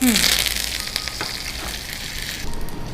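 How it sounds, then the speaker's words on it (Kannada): Dried red chillies and curry leaves fry in hot oil for a tempering. A loud, dense sizzle starts as they hit the pan, then settles into a steady crackle with a few pops, heard close and without talk. "ಈಗ ಒಣಮೆಣಸು ಮತ್ತು ಕರಿಬೇವು ಹಾಕುವ."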